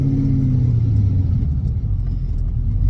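A supercharged 600-horsepower Mazda Miata drives along, its engine a steady, heavy low rumble heard from inside the car as it moves through the gears, with no talking.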